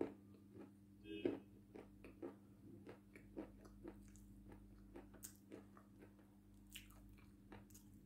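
Wet White Mountain being chewed close up: soft, squishy bites and mouth clicks in a slow, irregular rhythm, with a steady low hum underneath.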